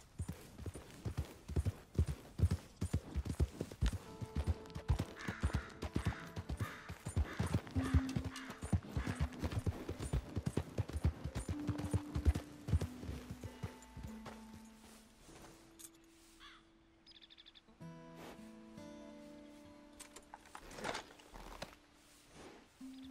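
Horse hooves galloping in Red Dead Redemption 2, a fast, loud, rhythmic clatter that eases into slower steps as game music takes over toward the end.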